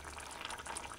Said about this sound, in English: you can see the gravy bubbling away